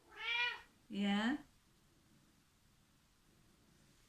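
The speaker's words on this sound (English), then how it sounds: "That's my cat" A pet cat meows twice in quick succession, close and clear, followed by quiet room tone, with a brief spoken word nearby.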